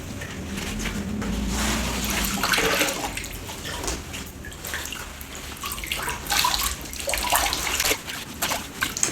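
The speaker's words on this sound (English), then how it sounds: "Now you can see when I'm squeezing the water out, I'm squeezing it rather than wringing it." Water splashes and trickles as a wet suit is squeezed by hand in a tub, giving continuous sloshing with uneven surges, close and moderately loud, with no speech.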